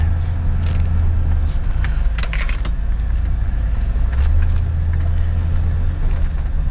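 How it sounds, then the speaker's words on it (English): 1981 Corvette V8 idling high after warm-up, a steady low rumble held close and loud, with a few light metallic clinks and rattles over it. "this car starts right up, goes up to high idle"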